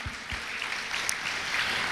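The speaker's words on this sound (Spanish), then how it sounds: "Dale un aplauso al Señor." Church congregation applauds during a sermon, a brief continuous wash of many hands clapping at moderate distance, with no talk over it.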